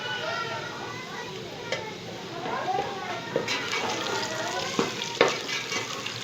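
Dried fenugreek leaves added to curry masala frying in a pan for fish curry give a steady sizzle with a few stirring clinks, as someone talks over it.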